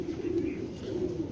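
Racing pigeons from the 2022 and 2023 seasons coo in low, rolling, continuous tones close by, with a steady soft murmur throughout.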